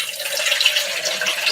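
Tap water runs steadily into a sink while food is rinsed during kitchen meal prep, giving a continuous close hiss with no talking.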